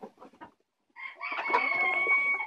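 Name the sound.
Kotlyarevskaya breed chickens clucking and crowing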